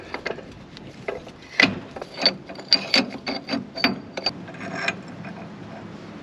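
Hand ratchet with an odd-shaped socket working a lock nut loose on a Dana 44 axle of an old Dodge Power Wagon, giving a run of close, uneven clicking ratchet strokes with brief pauses, no talking.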